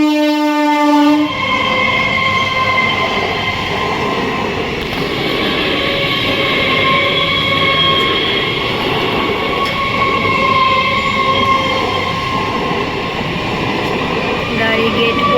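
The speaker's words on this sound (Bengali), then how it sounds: "ট্রেন যাচ্ছে" A train rumbles past close by with a loud, continuous roar of wheels on rails after a brief horn blast at the start.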